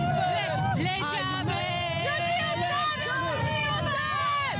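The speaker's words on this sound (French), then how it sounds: "toute cette foule, vous les entendez qui viennent de se placer" A large crowd of fans massed along the barriers for Johnny Hallyday's funeral procession, a steady loud babble of many voices with shouts rising over it, while someone speaks close by.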